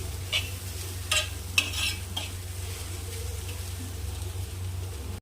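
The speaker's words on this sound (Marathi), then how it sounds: "हे बघा दोन मिनिट झाले मी परतून घेतलेला आहे" Crushed sambar onions stir-fried in a pan for a thecha relish, with a steady low sizzle and a few brief scraping stirs near the start, no talking.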